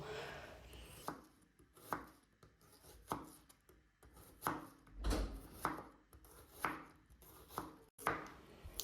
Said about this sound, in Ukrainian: я беру дві великих цибулини та нарізаю їх ось такими шматками